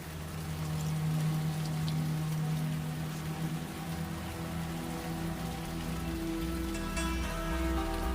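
Heavy rain pours down steadily, a dense hiss of drops close by, with a low rumbling hum underneath and no voices.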